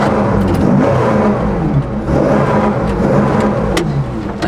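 Porsche 911 rally car with a very loud engine revving hard and pulling away, a continuous close roar with slight rises and dips and no talk over it.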